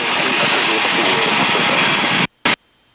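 Loud, steady engine roar of a Pitts S2C aerobatic biplane pulling into a vertical climb, heard from inside the cockpit; the drone cuts out abruptly near the end, returns in one brief burst, then stops.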